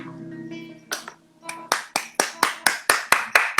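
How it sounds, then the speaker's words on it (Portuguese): A pair of hands claps along to Brazilian music, starting after a sustained sung note fades, then settling into a crisp, evenly spaced run of loud claps close by. "você só consegue ouvir as minhas palmas"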